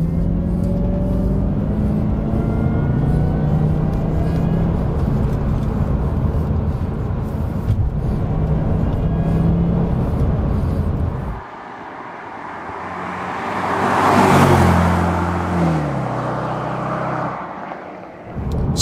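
A 2005 Jaguar XKR (X100) drives with its gearbox in sport mode, a loud steady engine rumble and road roar that drops abruptly, then swells again as revs rise and fall near the end.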